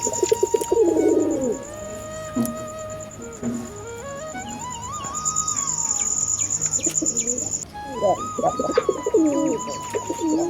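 Pigeons coo in soft, rolling bursts, close by and moderately loud, while a few other birds chirp and a steady high insect-like trill runs in the background.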